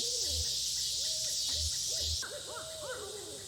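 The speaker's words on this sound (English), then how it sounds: "Those birds." Owls hoot repeatedly in the video game Kentucky Route Zero, with several layered calls over a constant bed of crickets and insects in a nighttime soundscape, and no voices.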